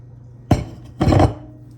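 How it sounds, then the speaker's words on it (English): A spatula scrapes a mixing bowl clean of a cheese ball mixture made with pepper jack and Colby, giving two short, close scraping clinks, the second longer than the first, over a quiet kitchen background. "Scrape the bowl clean."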